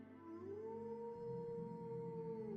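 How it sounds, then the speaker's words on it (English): Wolf howling in the distance at night in a moonlit forest, one long, faint, sustained howl that rises, holds, then slowly falls, over a quiet low background. "you hear the howling of a wolf"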